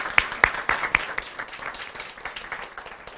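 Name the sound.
round of applause for a speller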